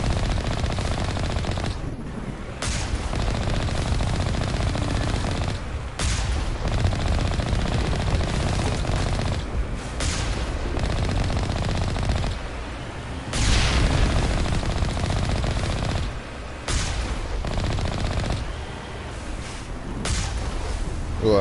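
Sustained automatic gunfire from a weapon in the video game Mass Effect Legendary Edition, loud continuous bursts with brief pauses and booming impacts, running throughout without speech.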